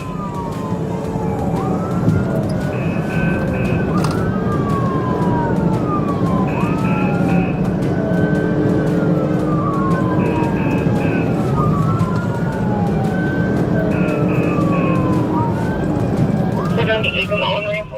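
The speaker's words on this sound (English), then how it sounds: "Officers activated lights and sirens" A police siren wails in repeating rising and falling sweeps during a high-speed chase, loud and close over heavy road and engine rumble, with a higher warbling tone cutting in at intervals.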